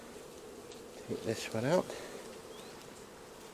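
Honey bees buzz steadily during a hive inspection, a low continuous drone around the frames, while a person speaks briefly in the middle.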